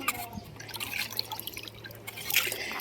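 Water drips and trickles faintly and irregularly in a household setting while potatoes are washed, with small splashes close by.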